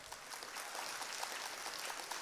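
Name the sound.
audience round of applause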